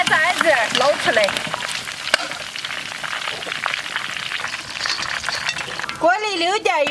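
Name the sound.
donkey ribs deep-frying in oil in a wok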